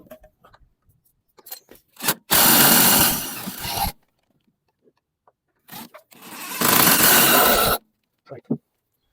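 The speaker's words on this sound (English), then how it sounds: "impact gun." Two loud bursts of an impact gun tightening a rear shock absorber bolt on a Mazda 3, each roughly one to two seconds long, close up with short clanks and quiet gaps between them.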